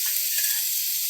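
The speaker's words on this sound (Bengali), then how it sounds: "তেলটা গরম হয়ে গেছে, আলুগুলো দিয়ে দিলাম" Potatoes drop into hot oil in a wok and hiss with a bright, constant sizzle for about a second, close and unbroken.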